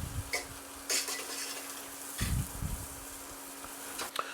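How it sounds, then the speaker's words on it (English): Beef casserole stirred in a pot, with scraping spoon strokes and light clinks against the metal over a faint steady sizzle, close and fairly quiet. "you want to constantly stir"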